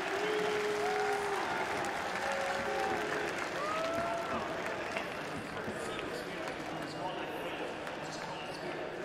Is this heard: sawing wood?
no